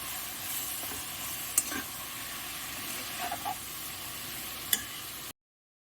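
Tomatoes with salt cooking in a pan for pakora kadhi, a faint steady sizzle with a few soft stirring clinks and scrapes, quiet and close, no voices.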